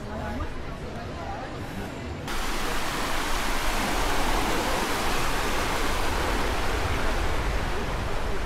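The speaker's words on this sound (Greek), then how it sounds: "Και εδώ είναι οι πηγές της λίμνης. Το νερό μπαίνει από εδώ" Water flows strongly from the springs of Lake Ohrid, a dense, steady rushing roar that jumps noticeably louder after the first couple of seconds and then holds constant.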